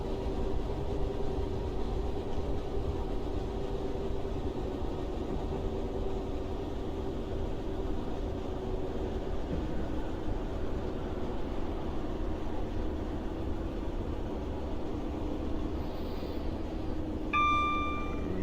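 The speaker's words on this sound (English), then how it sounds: "So we're going to have wheel slip no matter what we do." A Class 156 diesel multiple unit rumbles steadily along in Train Simulator Classic while its wheels slip, a constant low engine and rail drone that stays loud throughout, with a few thin high squeals near the end.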